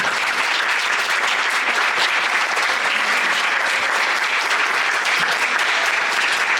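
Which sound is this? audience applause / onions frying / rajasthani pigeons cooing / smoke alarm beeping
audience applause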